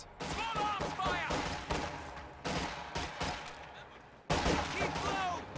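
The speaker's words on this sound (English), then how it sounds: "Taking small arms fire!" Small arms gunfire in a war video game, bursts of rapid cracking shots in clusters with brief pauses, loud and close, while in-game voices call out between the volleys.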